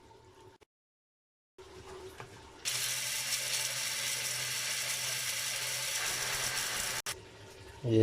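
Whole cloves and black cardamom with curry leaves being ground in an electric grinder, a short buzz, a silent pause, then a loud steady whirring grind lasting several seconds before cutting off.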